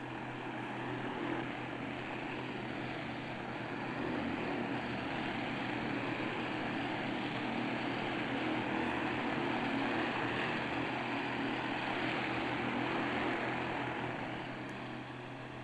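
Propeller engines of a Convair R3Y Tradewind seaplane drone steadily at close range, a dense continuous roar with no breaks, swelling slightly in the middle before easing toward the end.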